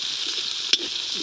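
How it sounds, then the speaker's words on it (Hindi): Bay leaf and spices sizzling in very hot oil at an outdoor Diwali picnic cook-up in the woods, a steady close hiss with one sharp crackling burst midway, no talk. "मसाला अभी तेज पत्ता डाला गया है, अभी मसाला डाला जाएगा"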